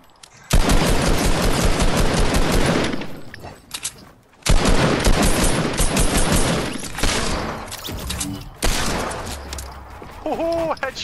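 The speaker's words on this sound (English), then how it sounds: "Shot him twice for 19 from a mile away." Fortnite Battle Royale Season 8 gunfire comes in loud, dense rapid bursts that fill long stretches, with brief pauses between volleys and scattered game effects near the end.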